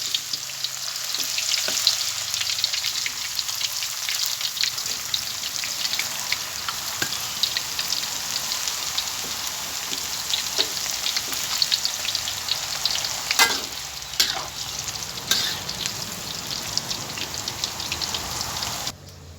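Banana slices deep-frying in hot oil for buttered banana chips give a steady, loud, dense crackle and bubbling sizzle that runs without a break for the full length, with no voices.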